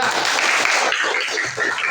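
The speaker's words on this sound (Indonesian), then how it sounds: "Beri aplaus dulu ya." A classroom of students claps together in a dense, steady round of applause, close and fairly loud, tapering slightly toward the end.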